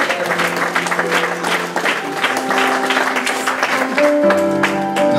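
A church congregation claps and cheers for Jesus during a French-language service, steady broadband applause from a large crowd with sustained organ or keyboard chords underneath, swelling slightly louder near the end.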